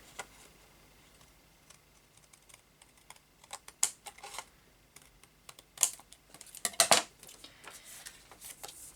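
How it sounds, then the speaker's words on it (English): Scissors trim the top of glued paper for a faux stained glass craft: scattered crisp snips and rustles that start sparse, then bunch into quicker, louder cuts near the end. "So I'm just going to trim the top of this."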